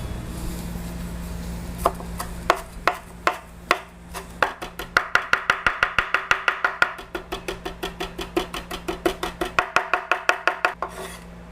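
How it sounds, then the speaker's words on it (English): Knife chopping chives, parsley, cilantro and mint on a board for a garlic sauce: brisk, steady rhythmic knocks that start sparse then quicken into a fast, even run of close, crisp chops, with a low steady hum behind. "We're gonna chop away."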